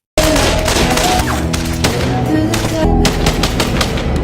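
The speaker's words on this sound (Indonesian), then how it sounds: "Solomon dan anak buahnya menghujani tembakan ke arah kabin." Rapid gunfire in a film as men rake a cabin with shots, dense bursts of loud overlapping cracks and thuds filling the space without a break.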